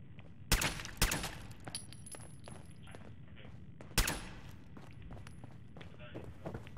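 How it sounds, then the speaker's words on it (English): Muffled silenced pistol shots in the spy game Tradecraft, three sharp separate pops spaced over several seconds, with light footsteps and quieter game sounds between them. "We have the silent pistol."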